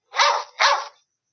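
A dog barks twice in quick succession, two short, loud, close barks against silence.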